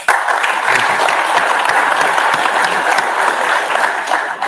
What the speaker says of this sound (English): I think that calls for an applause.